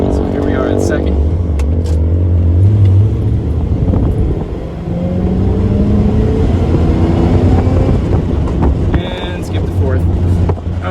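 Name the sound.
car driving in second gear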